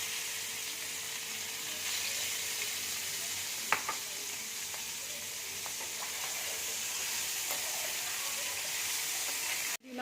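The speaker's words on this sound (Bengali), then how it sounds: "খুব হালকা করে আমি চিংড়ি মাছটা ভেজে নেব" Prawns sizzle lightly in hot oil in a pan, a steady close hiss with a few faint pops, with no talk over it.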